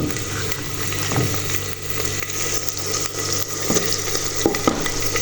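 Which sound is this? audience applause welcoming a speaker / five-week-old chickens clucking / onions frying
onions frying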